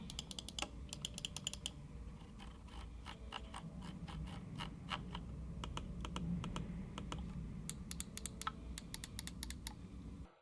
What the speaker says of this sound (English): with a nice audible clicky sound from the left and right click as well as the buttons